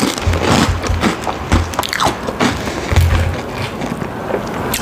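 Close, loud bites and crunchy chewing of a cheese shawarma wrap, repeated in an irregular rhythm with wet mouth sounds and no talking.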